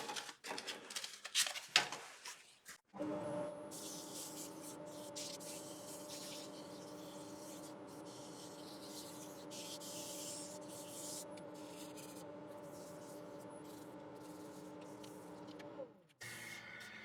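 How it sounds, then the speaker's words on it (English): A wooden spatula sanded while spinning on a woodturning lathe gives a steady, even rubbing hiss that runs for about thirteen seconds, preceded by a few seconds of scattered handling knocks and ending abruptly. "So now that's the piece sanded."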